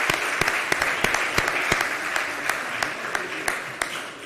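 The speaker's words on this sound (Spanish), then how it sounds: "Un aplauso para ella." Sustained audience applause at a Salamanca Iberian cured-meat forum, a steady dense wash of clapping with sharper individual claps standing out in an irregular rhythm, fairly close and loud, with no talk over it.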